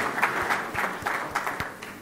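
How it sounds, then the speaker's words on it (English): A conference audience at a broadband summit applauds in a steady, moderately loud wash of clapping with individual hand claps standing out, no voices over it. "Give a nice hand, a well-deserved round of applause."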